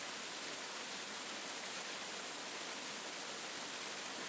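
Magic waterfall rendered as a steady, even hiss of rushing water, constant broadband wash without variation, faint and uninterrupted throughout.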